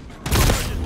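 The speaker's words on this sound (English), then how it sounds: "Enemy sniper shooting." An enemy sniper rifle firing in the video game Black Ops 6: a single sharp loud shot with a short rumbling tail, alone and under a second long.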